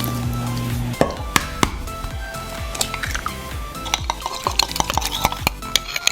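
A spoon scrapes and clacks around a bowl as egg and vanilla are worked into banana bread batter, with quick irregular knocks and stirring strokes, close and fairly loud, with a low steady hum underneath at first.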